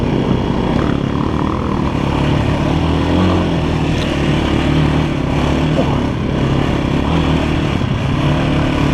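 Yamaha YZ 250 dirt bike ridden hard through a forest, its two-stroke engine droning loud and steady close to the microphone throughout, with a continuous rough roar and no pauses.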